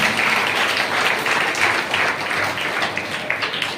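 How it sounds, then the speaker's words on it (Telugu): Church congregation clapping hands together in praise, a steady dense wash of applause that fills the whole stretch at a constant level. "చప్పట్లు కొడుతూ దేవుని మహిమపరుస్తా"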